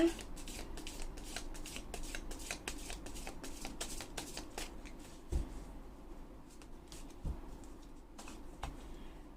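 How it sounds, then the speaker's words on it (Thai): Tarot cards are shuffled by hand, giving soft, rapid riffling and flicking bursts that repeat close and fairly quiet throughout, with no one speaking. "ขออนุญาตสับไพ่เพื่อเปิดดวง ความรักให้กับชาวราศีคนมีคู่คนไม่โสดก่อนนะคะ"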